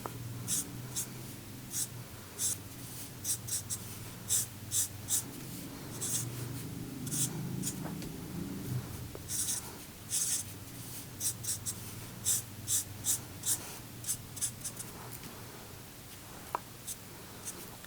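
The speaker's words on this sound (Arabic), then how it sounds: "ارسمها بأبسط طريقة، أو هات أي قلم وارسم" Pen sketching facial expressions on paper: repeated short scratchy strokes in bursts, close and fairly soft, with pauses between marks and a low background hum.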